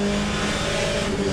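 A Ferrari 488 GT race car in Le Mans Ultimate roars with a steady, loud engine drone at speed, a close, even tone with a slight rising pitch and faint tire noise.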